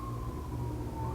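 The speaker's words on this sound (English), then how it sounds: "Sorry about the sirens." A distant emergency siren wails faintly in the background, a steady tonal whine over low rumble.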